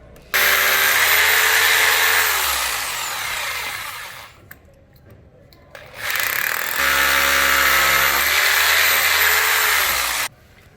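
Power drill boring holes, a loud steady whine running for about four seconds, a short pause, then a second burst of drilling for another four seconds, close up with no talk.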